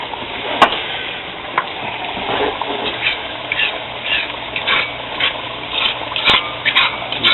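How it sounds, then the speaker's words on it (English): Steady crackling sizzle of eggs frying in a hot pan over medium heat, with occasional stirring scrapes and a few sharp pops, close by. "Dump your eggs. At this point, your frying pan is ready."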